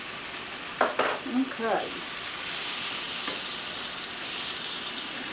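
Battered chicken fried steak sizzles steadily in a pan, close and continuous, while a person says a brief word and there are a few clattering bumps early on.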